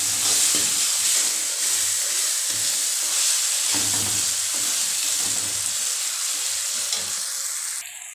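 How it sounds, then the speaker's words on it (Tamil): Chopped onions and tomatoes sauté in hot oil in a pan with a steady, loud sizzle and hiss, broken by periodic scraping stirs, and the sound fades out at the very end. "நம்ம போட்ட வெங்காயம் தக்காளி நல்லா இந்த அளவுக்கு வதங்கி எண்ணெய் பிரிஞ்சு வந்துடணுங்க"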